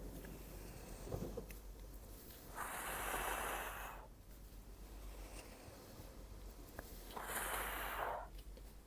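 Two long, steady exhalations of breath during postpartum joint exercises, each lasting about a second and a half, close and soft over a low room hum.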